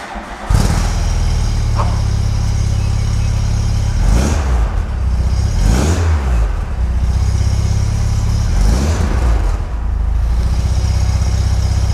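Mk2 VW Golf GTI 8v with a Milltek exhaust starts and settles into a loud, close idle, then rises in three gentle revs spaced a few seconds apart, each swelling and falling back to idle.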